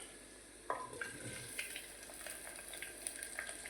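Potatoes with their skins on hitting and cooking in a pan of oil over low gas, a soft steady sizzle with a few sharper clatters and light scraping, fairly quiet.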